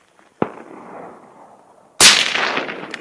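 Bolt-action rifle fitted with a muzzle brake fires 175 grain Federal ammunition outdoors: a sharp crack followed by a trailing echo, then a second, much louder blast with a long ringing tail.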